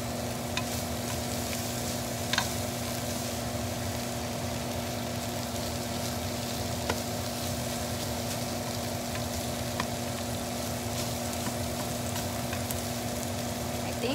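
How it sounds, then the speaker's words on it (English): Vegetables sautéing with onions and parsley flakes in a pan, a steady continuous sizzle and crackle of frying, close and even throughout with faint occasional pops and no speech. "our vegetables are sauteed already with the onions and our basil flakes or parsley flakes"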